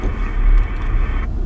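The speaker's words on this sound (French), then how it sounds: "Pour le coup, je fais caler la voiture." A car with a mobile CB radio setup on board stalls out, a loud low engine rumble that holds steady and then cuts off sharply near the end, with a steady tone underneath.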